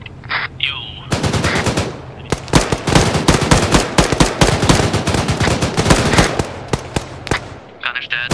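Sustained machine gun fire in the video game Arma 3 during an assault on a Taliban-held mine, loud rapid bursts of shots rattling nearly nonstop, with a voice briefly heard at the start and end.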